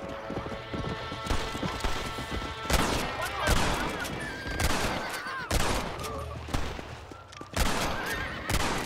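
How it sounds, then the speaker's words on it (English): Gunfire in Red Dead Redemption near Fort Mercer on the Rio Bravo, scattered bursts of shots mixed with horse whinnies and clip-clopping hooves, moderately distant. "they were shooting at me"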